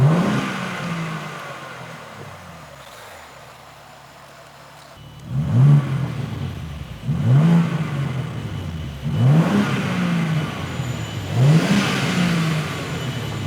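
A BMW G82 M4 Competition engine revs in four sharp, loud bursts, each rising then falling back, after a few seconds of quieter idling.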